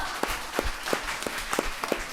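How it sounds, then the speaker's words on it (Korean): Audience applause at a Buddhist monk's talk show, a short burst of scattered, moderately loud clapping with distinct individual claps over a low room murmur. "어쨌든 박수 봐. 어쨌든 박수."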